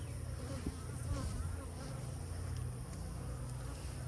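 Honey bees hum in a steady, dense drone around an open hive during a beekeeping inspection, continuous and close, with faint handling noises and no talk.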